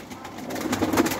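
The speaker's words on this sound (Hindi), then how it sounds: "जिस तरह कबूतर को पकड़ लेना है, पकड़ कर आपने इस जगह पे लगा लेना है" A pigeon coos softly while held in someone's hands, giving a short, close, murmuring burble that swells slightly near the end, with no talking.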